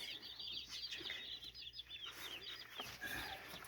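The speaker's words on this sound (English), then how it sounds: "Can you hear those chirps? Are those your baby chickies?" Baby chicks in a greenhouse brooder under a heat lamp, peeping in a dense, high, continuous chorus of short chirps, fairly faint with soft rustling below.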